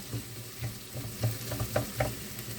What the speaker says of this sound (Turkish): Şimdi soğanım da kavruldu.